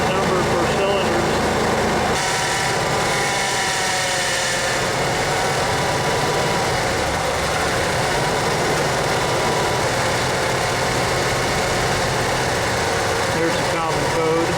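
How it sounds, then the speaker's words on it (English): A 1987 Ford F150 inline-six idles roughly, a loud, close, continuous low engine drone with an uneven pulsing texture, a brief shift early on, then steady rumbling to the end. "as you can probably hear, it's running a little rough."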